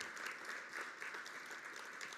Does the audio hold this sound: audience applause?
yes